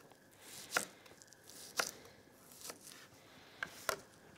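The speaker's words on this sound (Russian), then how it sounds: "Я возьму лук. Нарежу его достаточно крупно." A shallot being coarsely chopped on a board for coconut soup, four or five distinct knife strikes at an uneven pace, quiet and close with no talking.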